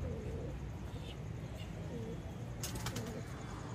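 Pet pigeons, including a young teddy-type bird, coo softly at home in a pigeon keeper's loft: a few low, quiet coos spaced out over steady background noise.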